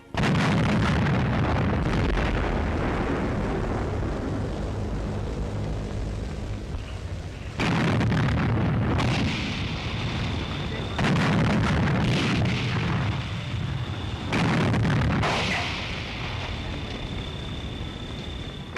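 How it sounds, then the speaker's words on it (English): Artillery bombardment of Warsaw in a German WWII propaganda newsreel: loud, continuous booming blasts and rumbling explosions in repeated heavy surges, dense and distorted like an old film soundtrack. "The siege of the doomed capital of Poland, the city under bombardment."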